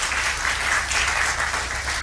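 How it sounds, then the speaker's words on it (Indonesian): A church congregation applauds in a dense, continuous burst during a sermon, the clapping steady and fairly loud throughout. "Tepuk tangan buat kemuliaan"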